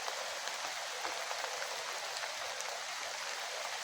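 Heavy morning rain falls steadily on a rural farm plot, a dense, even hiss of drops close by, with no speech.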